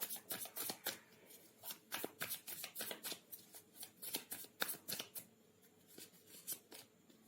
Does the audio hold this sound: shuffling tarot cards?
yes